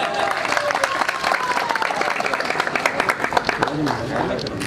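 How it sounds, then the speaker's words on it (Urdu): Audience applause at a political gathering of a party youth wing in Attock, sustained dense clapping from a crowd throughout, with an announcer's voice speaking over it. "تشریف لائیں جی بھرپور تالیوں میں"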